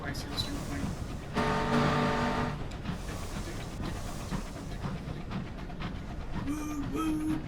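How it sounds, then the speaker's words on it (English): A train from the video game Sunless Skies rumbles along in stereo, a sustained mechanical roar with a louder tonal swell partway through and a few bright tones near the end, with people talking over it. "It's like a stereotypical train sound. The typical train sound in stereo."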